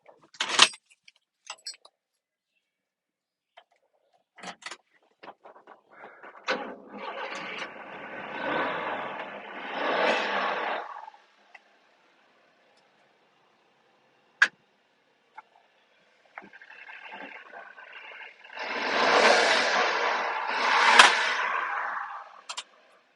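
A pickup truck started with keys: a jingle of keys and clicks, then two separate bursts of engine cranking and running, the second louder and fuller, with quiet gaps between.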